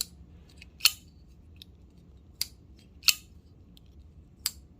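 Several sharp metallic clicks and snaps of a new TwoSun TS319 folding knife blade flicking open and locking shut, spaced irregularly against a quiet background.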